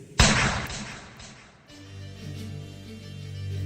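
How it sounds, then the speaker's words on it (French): A single sharp gunshot cracks out loudly, then fades into a long low rumble with a faint droning tone underneath. "Un coup de feu a claqué."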